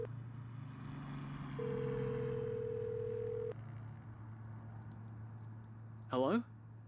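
A telephone dial tone sounds while calling home in the video game Road 96, a steady hum that rises in level partway through, followed by a short burst of tone near the end, with no talk.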